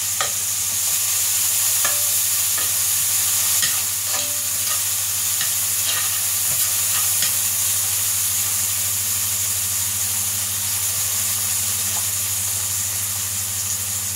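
Chopped onions and ham frying in a pan for potato salad, a continuous loud sizzle with occasional scrapes and clinks of stirring, steady throughout with no talking.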